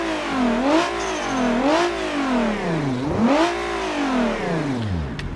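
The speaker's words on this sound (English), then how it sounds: "If you hear those like air release sounds at the very, very high end of the RPM, that's what it is" A car engine in BeamNG.drive with an Automation-built custom engine sound revs repeatedly, the pitch rising and falling in smooth sweeps, with sharp airy turbo blow-off hisses at the top of each rev, loud and close with no talk.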